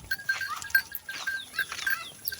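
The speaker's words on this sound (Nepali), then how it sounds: "चाहिँ निकै मजाले अलिक अगाडि आएको छ बाख्रा" Goats on a farm bleat in short, repeated calls, several overlapping across a couple of seconds, moderately near with faint outdoor background.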